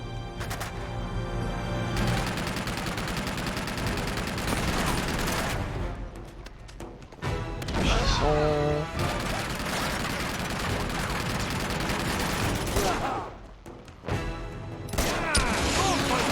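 Heavy gunfire erupts in the video game Uncharted 2: Among Thieves, a loud sustained barrage of shots and bursts with booming impacts, briefly dropping out and resuming, mixed with game sounds and a little voice.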